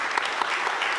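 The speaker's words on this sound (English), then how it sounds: "Give yourselves a round of applause." Applause from an audience at a Bi Pride UK stage event, a dense, steady wash of many hands clapping at full strength throughout the short moment, with no voices on top.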